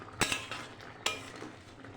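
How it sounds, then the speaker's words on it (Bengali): Two sharp metallic scrapes of a spoon stirring egg curry with garam masala in a pan, spaced about a second apart over a faint kitchen background. "গরম মশলা দিয়ে দিয়েছি, একটু নাড়াচাড়া দিয়ে নামিয়ে দেবো।"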